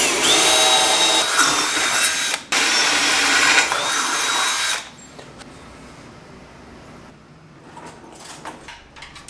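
Power drill cutting holes into a metal welding cart: a loud high whine runs for about five seconds with one brief break, then quieter workshop clatter follows.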